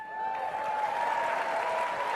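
Audience applause during a talk, a steady dense wash of clapping throughout, fairly distant and even in level, with a faint steady tone running beneath it.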